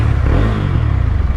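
A 2021 Mahindra Mojo 300 sport-touring motorcycle engine revving up close, a loud low throaty drone with rapid pulsing exhaust beats that hold strong through a brief burst.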